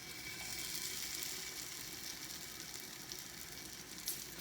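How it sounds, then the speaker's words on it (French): Patties sizzling in hot oil in a frying pan, a steady, even hiss and crackle throughout with no talking. "Vous mettez dans la poêle et vous laissez bien dorer."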